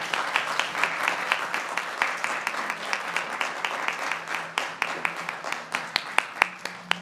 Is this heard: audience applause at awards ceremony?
yes